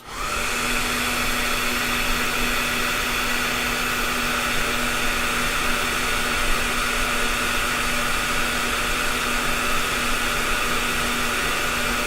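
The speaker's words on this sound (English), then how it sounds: "let's hit that with the dryer" A hair dryer blows continuously to dry a watercolor painting, a loud, steady close-up whir with a constant hum and airy hiss that holds unchanged from start to finish, with no talking.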